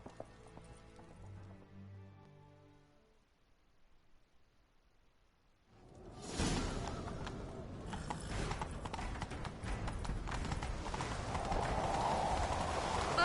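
Horse hooves pound at a gallop in The Witcher 3, starting after a quiet musical stretch and continuing as a steady, rapid clatter of beats under noisy game ambience to the end.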